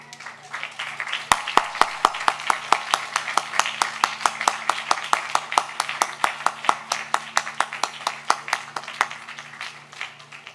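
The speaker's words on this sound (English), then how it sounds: "Give them a round of applause." Applause breaks out at a Brooklyn high school graduation ceremony. Crisp, steady claps ring close and evenly spaced over a softer wash of crowd clapping, then fade toward the end.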